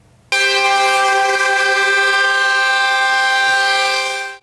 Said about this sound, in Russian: Традиционный приветственный гудок от колонны самосвалов знаменует открытие участка автомобильной дороги